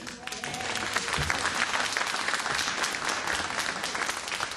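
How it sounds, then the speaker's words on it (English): A crowd gathered at a Staten Island Jewish community center for a mayoral announcement claps in a sustained, even round of applause that stays steady throughout. "In the home field, you always get a big round of applause."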